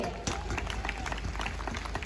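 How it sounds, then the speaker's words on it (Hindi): A crowd at a women achievers award ceremony applauds loudly for Bihar, dense overlapping claps filling the hall with voices mixed in. "ये देखिए, जोरदार तालियां बिहार के लिए"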